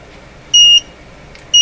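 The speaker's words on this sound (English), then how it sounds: "There's 2 meters beeping here." Two meters on a DIY vacuum-tube testing setup sound loud, clean electronic beeps, one held tone followed after a pause by another, against near silence.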